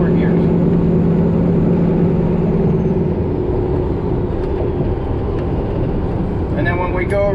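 A truck's engine drones loudly and steadily as the driver shifts from 9th to 10th on a 10-speed transmission, the revs sagging after the shift under constant road noise.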